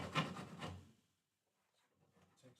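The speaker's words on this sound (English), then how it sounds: "Let's grab the rasp. It's a little bit quicker. It's a bit aggressive." Wood rasp working a Telecaster guitar body: two close, coarse scraping strokes, then a brief pause and fainter rubbing, with no talk.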